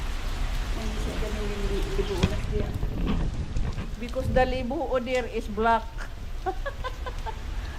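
Rain falling in Shatin, Hong Kong, a steady hiss that continues under people talking, with some birdlike calls mixed in.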